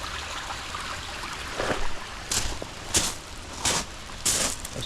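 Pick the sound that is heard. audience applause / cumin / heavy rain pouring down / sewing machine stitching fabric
heavy rain pouring down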